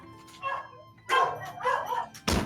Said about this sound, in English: Three of them are mauled to death on the streets of Grandsell by a giant dog monster.